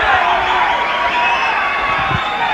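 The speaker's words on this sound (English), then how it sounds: "the crowd is not happy about it" A boxing crowd at a 1997 Commonwealth fight roars and jeers in displeasure, a loud, dense wash of voices throughout with scattered shouts.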